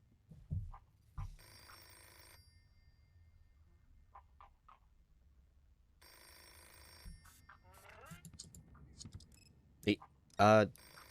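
A telephone rings inside the Hello Neighbor 2 video game in two separate ringing bursts, surrounded by scattered in-game clatter and ending with a sharp loud hit.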